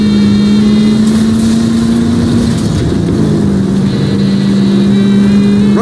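A vintage 1940s car in L.A. Noire drives along a city street, its engine holding a steady mid-pitched drone that rises and falls slightly, loud and close with whirring under it.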